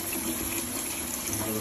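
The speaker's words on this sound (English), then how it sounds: "So we're gonna try to start running some hot water." Hot water runs steadily through a household plumbing pipe near a sink and dishwasher, a continuous rushing flow at moderate level with a faint hum beneath it.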